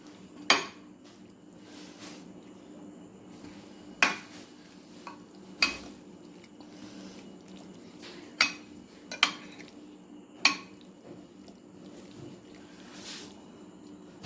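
Chickpea chaat being mixed with spices in a bowl, with intermittent sharp clinks of a spoon against the bowl over soft stirring and squishing, close up and without talk.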